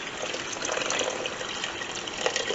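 Beef broth pouring smoothly from a punctured carton into a pot, a soft continuous liquid splashing and gushing, faint and steady without gurgling.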